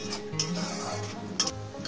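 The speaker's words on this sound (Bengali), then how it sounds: "পেঁয়াজটাকে আমি কি সুন্দর করে ভেজে নিচ্ছি" Sliced onions frying in oil until golden for crispy fried onions, a soft steady sizzle with a few light clinks and stirring scrapes of a utensil in the pan, close and fairly quiet.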